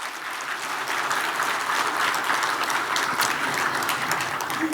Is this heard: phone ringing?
no